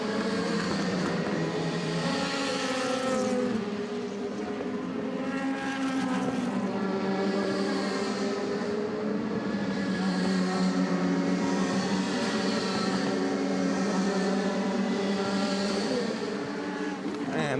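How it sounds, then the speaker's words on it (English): DTM race cars at Hockenheim scream past one after another, engines rising and falling in pitch as they pass close by, with steady loud engine noise throughout and a commentator talking over it. "And the cars scream past our commentary position"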